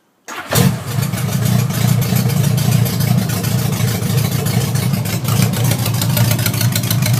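A 1976 Honda Goldwing engine idles with its stock exhaust removed and only headers fitted, a loud, steady, throaty rumble running continuously after a brief start.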